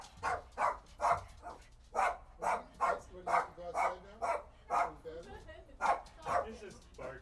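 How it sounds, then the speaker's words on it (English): A dog barks about fifteen times in a fairly regular, quick rhythm, loud and close, with a person talking faintly underneath. "He's just barking"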